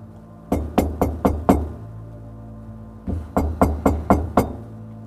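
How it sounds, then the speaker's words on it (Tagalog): Knocking on a wooden door comes in two close, firm bursts of about five evenly spaced raps each, separated by a pause, over a low steady background drone. "Nagpatuloy ang mga katok sa pintuan"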